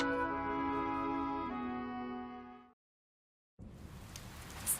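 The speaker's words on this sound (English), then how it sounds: "Stupid rain! Go back to the stupid cloud you came from." Rain in the video game Fire Emblem: Three Houses falls as a steady hiss that starts abruptly after a stretch of held musical tones and a moment of silence, continuing at moderate level.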